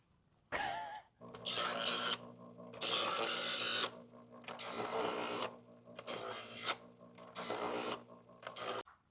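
A knife is sharpened during hide tanning with repeated rasping strokes, about six loud bursts separated by short pauses, close and alone.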